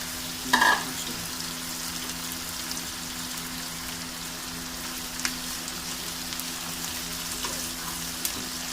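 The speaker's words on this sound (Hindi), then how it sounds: "थोड़ा सा प्याज भुन गया है" Onions and tomatoes fry in a pan for balti gosht, giving a steady, soft sizzle with a low background hum and a brief clatter of stirring near the start.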